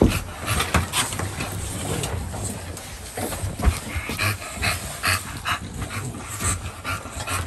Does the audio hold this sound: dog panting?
yes